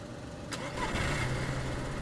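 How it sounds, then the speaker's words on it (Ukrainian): A car engine starting in the DayZ video game, a brief cranking click followed by the engine catching and settling into a steady, low idle rumble. "Кидаємо сюди свічку, викидаємо радіатор, заводимо двигун."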